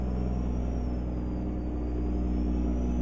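An Autocar AT64 truck engine in American Truck Simulator drones in a steady, loud low rumble with a continuous harmonic hum, unchanging throughout with no talk over it.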